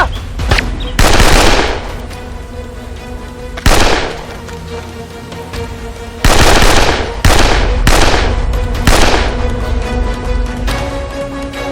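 A shootout in a TV drama brings repeated loud bursts of gunfire. Sharp shots and short volleys come in clusters over about ten seconds against a steady background of noise, and no voices are heard.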